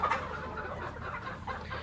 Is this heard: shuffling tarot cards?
no